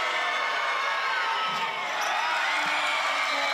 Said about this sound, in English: Perth crowd letting her hear it.